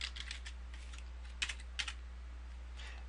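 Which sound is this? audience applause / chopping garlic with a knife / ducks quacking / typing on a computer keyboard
typing on a computer keyboard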